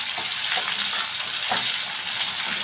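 Chopped onion sizzles and fries steadily in hot spiced oil in a Bengali kitchen, a loud continuous crackle with faint stirring scrapes underneath.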